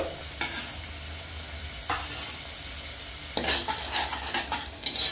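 Onions fry in oil for a Telangana-style mutton gravy, a close steady sizzle broken by bursts of scraping and clattering as a spatula stirs the pan, the busiest stirring coming near the end.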